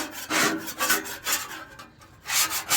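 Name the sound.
metal scraper scraping a Blackstone griddle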